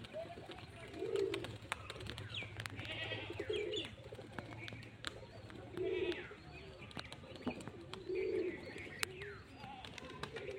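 Several pigeons coo in soft, rounded bursts about every two seconds, with steady outdoor background noise, scattered clicks and knocks, and faint voices in the distance.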